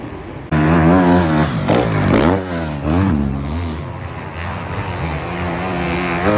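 Racing motorcycles, one of them a Honda, roar past during a road race, engines loud and close with rising and falling pitch as they sweep by in quick succession.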